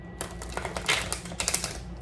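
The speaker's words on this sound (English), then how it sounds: "I'm gonna go ahead and shuffle the cards for you" Tarot cards are shuffled in a brief run of quick, papery riffling flicks and taps, close and fairly crisp, with no speech.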